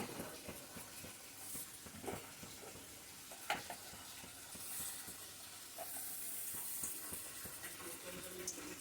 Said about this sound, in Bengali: কড়াইয়ের মধ্যে দিয়ে দিচ্ছি ঘি 2 চামচের মতো।